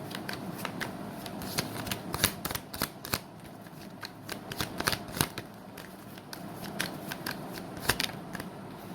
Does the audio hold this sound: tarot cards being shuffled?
yes